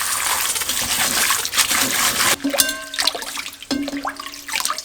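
Water runs and splashes as food ingredients for a street-style toast are rinsed by hand, with a steady tap stream followed by sloshing, swirling pours and brief gurgles, close and fairly loud.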